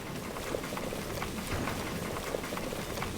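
Water boiling around a hot onion in the video game Flotsam, a steady bubbling, fizzing hiss that continues evenly throughout, heard alone.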